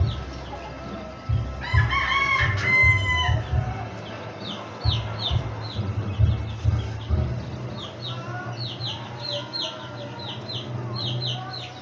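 Gamefarm chickens cluck and a rooster crows, with repeated short calls and low murmuring clucks nearby, fairly quiet and close.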